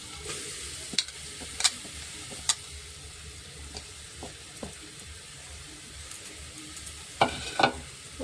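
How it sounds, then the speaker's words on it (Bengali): Grated carrots sizzle steadily in hot ghee while being stirred, with sharp scrapes of the spoon against the pan at irregular moments, close by and without voices. "আমি ভালো করে একটা নেড়ে নেবো ঘিতে"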